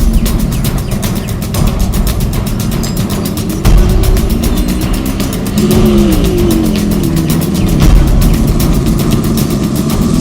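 Engine of a bus on the move, a steady mid-pitched drone with shifting tones as it revs and changes speed, loud and continuous throughout.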